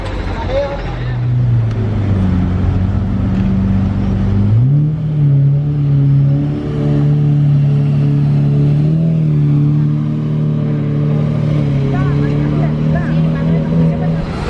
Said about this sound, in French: Et là-bas il y a une 720S blanche qui passe.